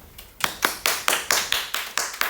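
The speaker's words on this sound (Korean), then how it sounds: "근데 박수 왜 치는 거예요?" About ten sharp, evenly spaced claps from high-school students in a classroom lesson, close and distinct with short gaps between them.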